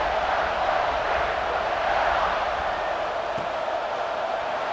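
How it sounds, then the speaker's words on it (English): A stadium crowd buzzes in the College Football 26 video game during a Rutgers vs. Ohio State matchup, producing a continuous broad roar of distant voices at a steady level with no distinct speech. "this crowd is buzzing after that last score"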